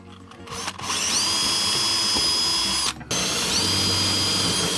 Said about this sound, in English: Just gonna drill these through with the pilot.